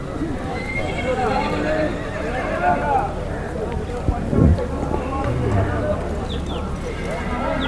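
A mare whinnies amid a busy outdoor horse market, with nearby hoof clops and people talking in Hindi throughout the scene.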